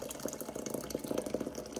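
Water runs steadily for about two seconds, a soft continuous trickle and splash like 400 milliliters being poured into a pot for boiling Breuss kidney tea, faint and close with no voices.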